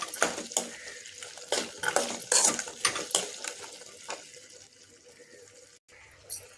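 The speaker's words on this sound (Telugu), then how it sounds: "ఇప్పుడు మంచిగా మిరపకాయలు కూడా గోల తట్టి వేపుకోవాలి" Red chillies being fried and stirred in a pan for gongura chutney, with repeated close metallic scrapes and clinks of a spoon against the pan over a faint sizzle, quieter toward the end.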